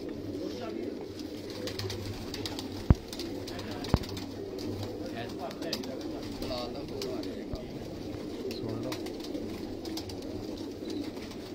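Breeder pigeons at a pigeon club coo in low, rolling throaty calls that repeat steadily, with a couple of sharp clicks and faint voices in the background.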